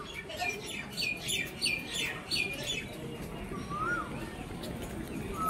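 Full adult pigeons kept for sale call out in a quick run of short, chirping notes during the first few seconds, followed later by a single call. The sounds are faint against a soft, noisy outdoor background.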